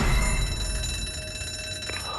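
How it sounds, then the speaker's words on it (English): A still-active supermarket alarm goes off inside ZombiU, a continuous electronic ringing with steady tones held throughout under dense background noise, loud and unbroken. "prompting the one somehow still active alarm to go off and alert any infected that just happened to be nearby"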